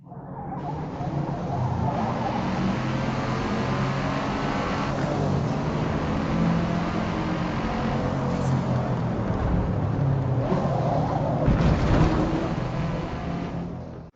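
Car engine drone from the driving game BeamNG Drive, a continuous steady roar with a couple of louder surges and rumbles near the end, running without a break.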